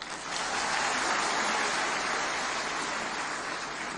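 Loud, dense applause from a large audience at a youth meeting in Jagdalpur, holding steady at full strength for the whole stretch with no voices over it.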